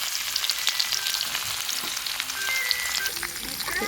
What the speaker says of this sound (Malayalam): കടുക് പൊട്ടി തുടങ്ങിയിട്ടുണ്ട് ഇതിലേക്ക് വെളുത്തുള്ളി കുത്തിയ വെളുത്തുള്ളി ഇട്ട് കൊടുത്ത്